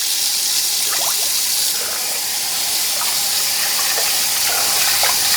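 Steady rushing of running tap water, continuous and close, with faint splashing and stirring sounds as rice is washed under the stream.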